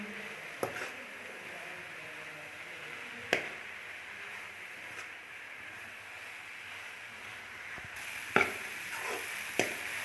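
Radish for a paratha filling sizzles faintly and steadily in a pan, broken by a few sharp scraping knocks of a spoon against the pan.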